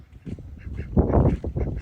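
A duck quacks close by on a small farm with chickens nearby. There is a short run of raspy, rhythmic quacks, with the loudest burst in the middle, and no talking.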